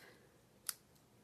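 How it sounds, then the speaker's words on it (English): Scissors snip once through thread wrapped in loops for a wedding card, a single sharp close snip over a quiet background. "And then cut it off."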